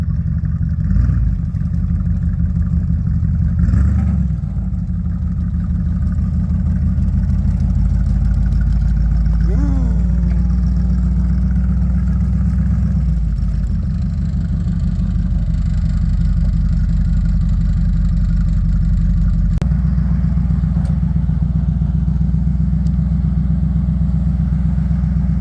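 A Bombardier wide gauge tracked machine's engine runs steadily while being moved, a loud continuous low rumble throughout, with brief shifts in tone and a few clunks along the way.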